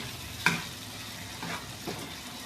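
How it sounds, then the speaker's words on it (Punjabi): Rice roasting in a pan while being stirred, soft scraping strokes at intervals over a low sizzle, close and alone. "ਆਪਾਂ ਚੰਗੀ ਤਰ੍ਹਾਂ ਭੁੰਨ ਲਾਂਗੇ"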